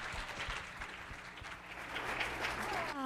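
An audience at a high school chapel assembly on mental health applauds its speakers with steady, full clapping that lasts throughout. Low thumps and a faint voice come through near the end.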